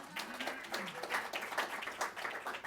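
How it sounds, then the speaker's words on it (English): An audience at a National Constitution Center press conference claps together, a brief burst of broadband patter that holds steady for a few seconds and is heard from a middle distance. "We can applaud that"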